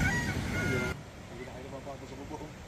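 A loud, raspy turkey call rings out at the start, then fades into steady outdoor background noise.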